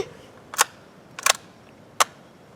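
Three sharp rifle shots at a steel plate target, spaced about a second apart, each a crisp crack with a quick metallic edge, fired outdoors from a rifle compared to a Mosin.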